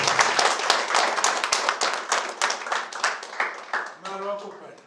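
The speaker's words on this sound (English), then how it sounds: "let us give ourselves a big round of applause" Applause from an audience at a discussion forum on water security in Lusaka: dense, close clapping runs steadily for about four seconds, then a voice begins talking as the clapping thins out.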